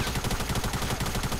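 A sniper rifle in a video game fires amid a rapid, continuous crackle of gunfire, dense and loud across the whole short burst.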